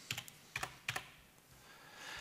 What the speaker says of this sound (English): On your number pad, we're going to tap the 1 key and the 8 key